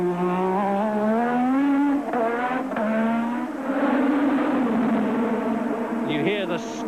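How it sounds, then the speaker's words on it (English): A Williams Honda Formula One car accelerates hard on the Detroit Grand Prix street circuit, its loud engine note sweeping up in pitch in repeated bursts of power while a commentator talks over it. "You hear the stabs of power as Mansell just gets his foot down"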